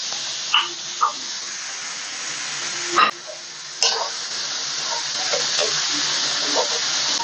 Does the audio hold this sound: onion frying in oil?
yes